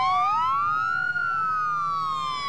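An emergency vehicle siren on the road sweeps up into a long, steady, wavering wail with a sharp, piercing tone, loud and continuous for the whole stretch with no voices.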